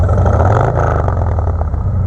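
A 2017 Harley-Davidson Road Glide with a Two Brothers Comp Shorty Turnout exhaust revs up close, a deep, throaty, low gurgling rumble that swells and settles steadily without a break.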